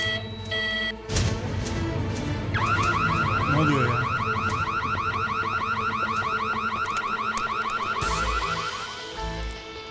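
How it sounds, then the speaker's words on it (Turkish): Electronic alarm rings continuously inside a stuck elevator, a steady pulsing tone that stays loud for most of the stretch, with a brief startled voice near the start. "Bas alarma bas."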